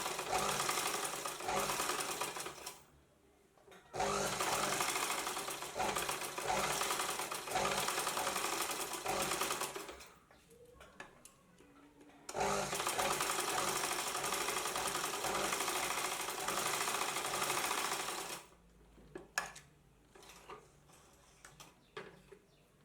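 A sewing machine stitches a churidar pant in long continuous runs, each burst of rapid mechanical whirring lasting several seconds, separated by short quiet pauses, loud and close with no talking.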